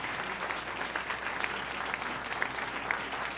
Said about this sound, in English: Please join us in a round of applause for the 56th governor of the state of New York, Governor Andrew Cuomo.